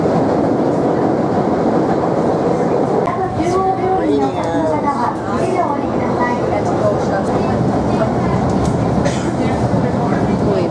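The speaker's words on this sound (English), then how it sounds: "This is our third subway." Subway train in Osaka during rush hour, heading toward the ferry port, rumbling steadily and loudly throughout, with a brief high whine or squeal in the middle and people talking faintly in the car.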